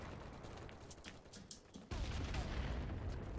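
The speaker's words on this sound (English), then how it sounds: "There's so many grenades going off." Grenades going off in BattleBit during a large 127 versus 127 match, heard as a dense, continuous barrage of distant blasts and gunfire that swells louder partway through.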